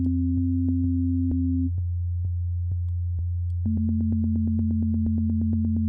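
Looped synth chord in Ableton Live playing a 3-against-4 polymeter, a steady sine-like tone with a pulsing click pattern that shifts to a slightly lower pitch and faster repeating pulses midway.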